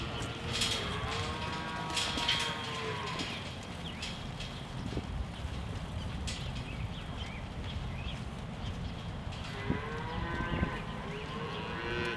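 Cattle on a 900-cow dairy farm low and moo at a distance. A few drawn-out calls come near the start and the end over a steady background of farm noise.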